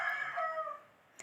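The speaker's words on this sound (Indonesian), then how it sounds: "Ada ayam" A single rooster crows nearby, one clear drawn-out call that fades into near silence within about a second.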